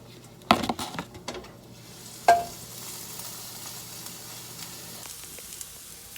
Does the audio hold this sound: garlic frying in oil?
yes